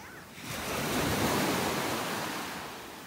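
Ocean surf on a beach in North Naples, Florida, with one wave washing in as a broad rushing swell that peaks and slowly recedes, steady and fairly close, without talk.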